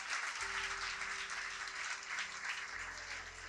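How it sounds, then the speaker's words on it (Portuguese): A church congregation applauds during a worship service, steady clapping from a crowd filling the room at moderate distance, continuing throughout with a low hum underneath. "Aplaude se você entendeu mesmo."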